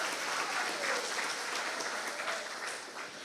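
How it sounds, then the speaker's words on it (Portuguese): Church congregation applauding during a Sunday morning service, a dense, steady wash of many hands clapping that fades slightly toward the end. "Você pode aplaudir? Aleluias!"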